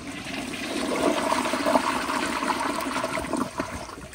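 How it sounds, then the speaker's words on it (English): An elongated 1994 Kohler Wellworth Lite gravity-fed toilet flushes with a steady, close rush and gurgle of water that swells slightly midway and runs throughout, with no voices. "So here's another flush."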